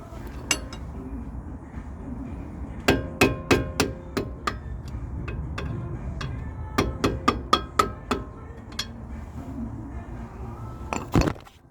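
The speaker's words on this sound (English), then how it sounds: "I'm going to hammer and chisel them" Bright, ringing metallic clinks from hammer blows on a chisel, removing ball joints on a 2001 Dodge Ram 1500 in a driveway, irregular bursts of rapid strikes with pauses, close and fairly loud.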